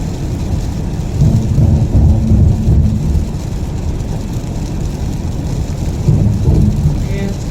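Rain falls steadily on a car driving a highway in a New Zealand winter, a continuous loud hiss with low rumbling from the road and engine beneath it.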